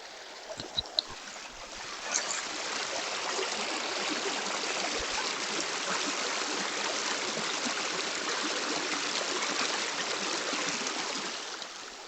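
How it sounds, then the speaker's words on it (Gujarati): Steady water of a village stream flowing and trickling without a break, a close, even wash of sound with a few small splashes near the start and no voices. "તો આ તો પાણીનો અવાજ."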